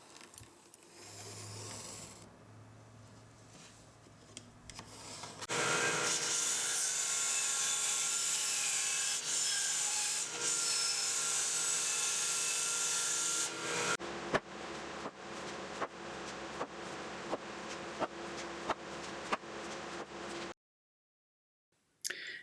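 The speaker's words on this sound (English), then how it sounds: "After I got the first one cut, I used that one as a template so that I can mark and then cut all of the other braces" A loud, steady power-saw whine cuts through wooden braces for a rolling workbench for about eight seconds, then gives way to a series of sharp knocks and clatters of boards being handled before falling silent.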